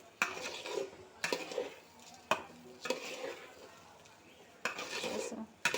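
Stirring in a pan with a spatula while food fries in oil, with repeated sharp scraping and clinking strokes spaced a second or so apart over a soft background sizzle, close and moderately loud.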